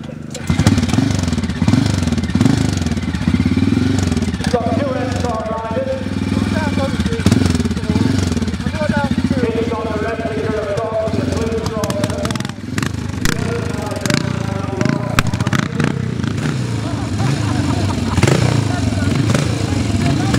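A CCM scrambler motorcycle engine runs at a nostalgia scramble meet, its steady, loud mid-range drone holding throughout with slight rises and falls, and voices talking beneath it.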